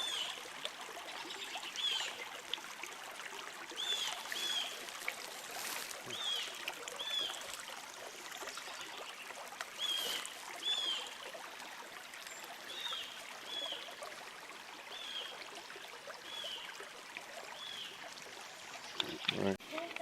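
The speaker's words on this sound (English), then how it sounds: "once most of the snow is melted and gone away, then this brook kind of goes down to a trickle" A small Maine brook, low after snowmelt, trickles softly and steadily in the open air for the whole stretch, faint and continuous, with scattered bird chirps above it and no talk.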